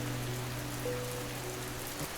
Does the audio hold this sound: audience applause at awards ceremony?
no